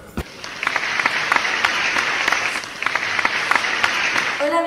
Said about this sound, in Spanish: un fuerte aplauso para la gran astrónoma